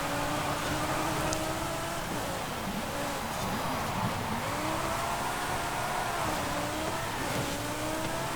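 A Lamborghini Huracán STO racing in S1 class in Forza Horizon 5, its engine droning continuously and rising and falling through gear changes, with occasional tire noise and no talk.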